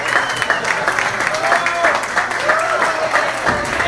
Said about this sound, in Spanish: Aquí nuestra modelo le va a hacer entrega de un pequeño presente, seguido de un fuerte aplauso.